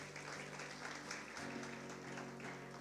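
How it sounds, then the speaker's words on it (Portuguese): Applause for visitors during an Easter evening church service, a steady wash of clapping from the congregation mixed with sustained music tones underneath, moderately quiet and continuous throughout. "Uma salva de palmas para os nossos visitantes."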